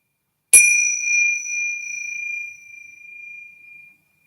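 A single bell is struck once in a quiet yoga class and left to ring, its clear tone sustaining and slowly fading for several seconds with nothing else heard.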